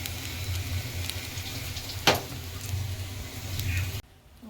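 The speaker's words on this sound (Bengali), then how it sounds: "এই যে গোল গোল করে আলু ভাজছি" Round potato slices fry in a pan with a steady, soft sizzle and hiss, and one brief sharper crackle midway before the sound cuts off.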